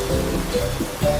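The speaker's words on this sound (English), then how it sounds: "The rain is starting." Rain beginning to fall makes a dense, continuous patter and hiss on surfaces, fairly loud and even throughout, with a few faint tonal traces under the wash.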